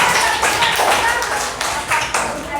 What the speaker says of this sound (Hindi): रितिका रानी के लिए एक ताली होना चाहिए